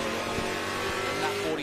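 A race car drives down the roller coaster section at Virginia International Raceway during a Mission Foods VIR SpeedTour race, a brief steady engine roar under a commentator's voice.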